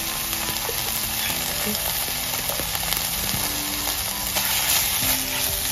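Ginger garlic paste frying with capsicum in a pan while making Goan bread egg rolls, a steady close sizzle with faint scraping from stirring throughout.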